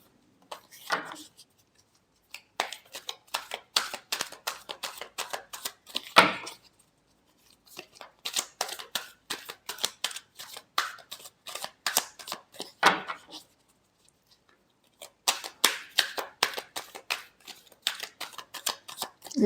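Tarot cards being shuffled close by, crisp riffling and flicking in three quick bursts separated by short quiet gaps, with no talk over them.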